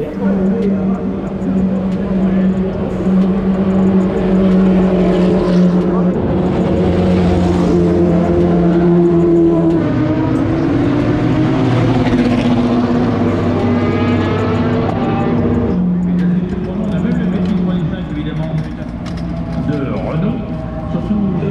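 Loud, sustained roar of historic Formula 1 V10 engines revving and droning nearby at Circuit Paul Ricard, with pitch rising and falling, while people talk underneath.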